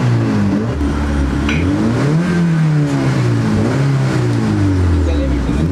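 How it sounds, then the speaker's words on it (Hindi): A Honda Civic engine is revved up and down a few times after starting, the mid-pitched drone rising and falling loudly and close by, with someone speaking over it. "अभी मैं रेस देता हूं थोड़ा।"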